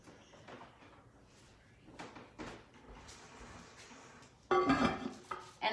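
A lid goes back onto an enamelled cast iron Dutch oven holding chicken on potatoes, landing with one loud, ringing metallic clank near the end, after quieter handling clatter.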